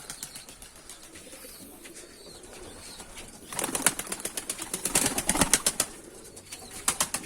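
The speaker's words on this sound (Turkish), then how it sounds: "Burası da oyun kuşu kümesimiz." Tumbler game pigeons in a coop flap their wings in a rapid, loud flurry midway, surrounded by soft cooing and rustling close by.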